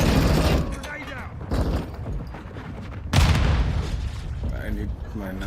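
A grenade blast and bursts of gunfire from a Call of Duty Modern Warfare II firefight, loud and dense, with a heavy boom partway through and continuing shots under shouted voices.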